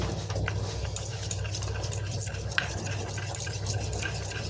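Tomato paratha batter made with oil being stirred in a bowl, a steady soft scraping and swishing that runs continuously and close, with no talking.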